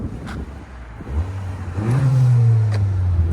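Honda Accord Sport with a 2.0 turbo engine and a modified exhaust revs up close by, a low idle rising into a loud, sustained drone that holds at higher revs, with no talk over it.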